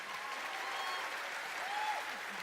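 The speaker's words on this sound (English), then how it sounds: "Let's give them a round of applause." Faint, distant crowd applause for cosplay contest judges at TwitchCon, an even wash of clapping from a large audience with a few voices rising over it.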